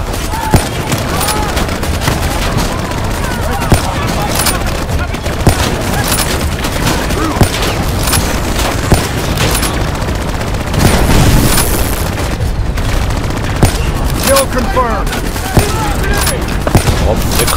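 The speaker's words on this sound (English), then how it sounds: "Abi ne kadar çok bomba atıyorsunuz siz ya" Dense bursts of gunfire, rapid automatic fire and booming grenade blasts in the Call of Duty Black Ops 3 mission In Darkness, continuous and loud throughout, with voices talking over the combat.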